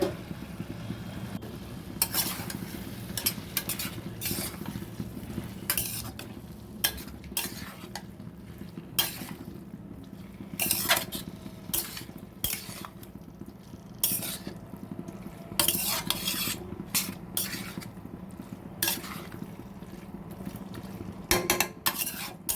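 Banana flower (mocha) is stirred and sautéed in a pan: repeated sharp spatula scrapes and clacks against the metal come in irregular bursts over a low, steady frying hiss.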